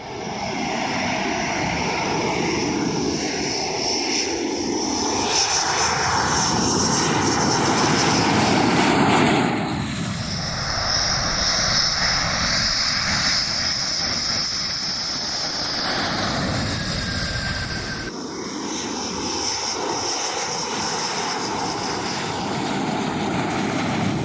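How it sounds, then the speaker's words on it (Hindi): Indian Air Force Rafale fighter jets, newly arrived from France, fly overhead with a loud, continuous engine roar that swells and shifts for over twenty seconds, with no talking. "वायु शक्ति राफेल के 3 और विमानों ने भारत की माटी को नमन किया है।"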